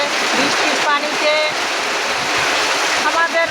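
Heavy monsoon downpour over a village home, a loud, continuous rushing hiss of pouring water close by, with brief faint tonal bits of voices or birds poking through the steady roar.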